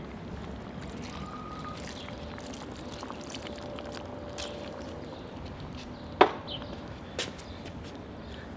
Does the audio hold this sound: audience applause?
no